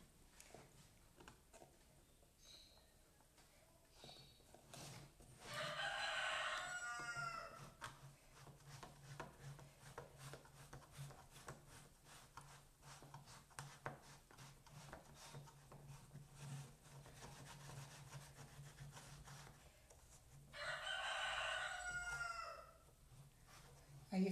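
A rooster crows loudly twice, each crow lasting a couple of seconds and separated by a long gap, heard outdoors near a kitchen where apple cake is being baked, with faint background noise between the calls.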